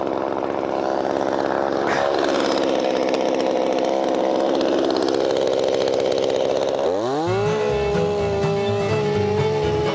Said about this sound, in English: I'm going to turn it around and cut the spirals in the shell.